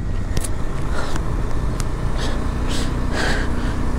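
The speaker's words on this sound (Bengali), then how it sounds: "ওই যে গাড়িটা গেল" A car passes on a steep, foggy, snowy mountain road near Shinkula Pass, a fairly loud broadband engine and tire rush that swells and fades over a few seconds with wind in the background.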